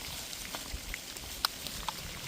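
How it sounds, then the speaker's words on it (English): Steady fall rain comes down outdoors as an even, continuous patter with a few louder nearby drops, no talk. "That is a steady rain."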